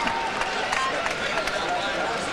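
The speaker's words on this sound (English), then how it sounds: "the big crowd here at Thomas and Mack very appreciative" A large boxing crowd at the Thomas and Mack arena applauds between rounds, a dense, continuous wash of clapping and cheering that holds steady throughout, with a commentator talking over it.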